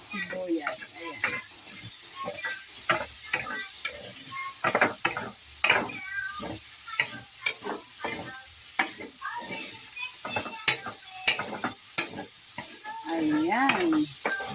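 Tomato and onion sautéing together in a pan for ginisang monggo, with a steady sizzle and repeated scraping and clattering of a spoon stirring, while someone talks over it.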